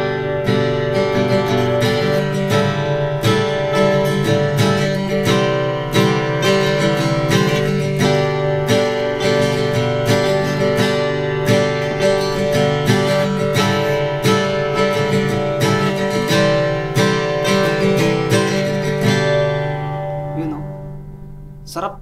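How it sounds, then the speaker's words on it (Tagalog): Taylor GS Mini-e Rosewood acoustic guitar strummed with a pick, steady full chords ringing with long sustain for about twenty seconds, close and loud with no talking. "subukan muna natin yung strumming niya."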